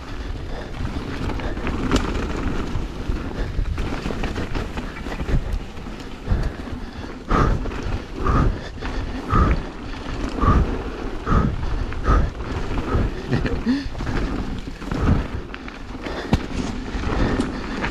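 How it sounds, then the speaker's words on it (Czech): Wind buffeting the microphone during mountain biking on a muddy bike-park trail, heavy rumbling gusts with bursts of low thumps and rattles across the whole stretch, loud and close. "další větr po mě hodí"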